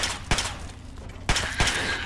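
Gunfire in the video game Fallout 3: two pairs of sharp shots about a second apart, over a steady mid-level game background.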